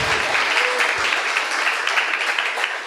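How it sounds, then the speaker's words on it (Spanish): A church congregation applauds in worship, a dense and steady clapping that carries at even strength throughout with no voices on top. "Dale un aplauso al Señor por eso."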